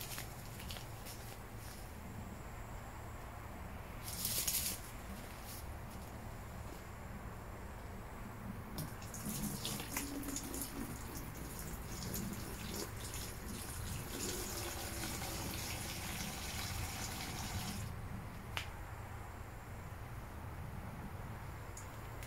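Water poured slowly from a container during a home fishing-hook strength test, a soft, steady trickle and gush that runs continuously at low level, with a few brief louder splashes and clinks along the way.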